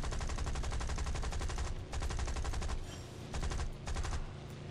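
Aircraft machine guns in War Thunder fire in loud, rapid bursts from a Buffalo fighter's cockpit, several long volleys separated by brief pauses, over steady engine drone.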